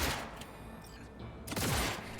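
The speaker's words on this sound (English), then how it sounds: "You see how many shots this does?" A weapon in the Cyberpunk video game fires a burst of rapid shots, loud and close, with a short pause before a second booming volley.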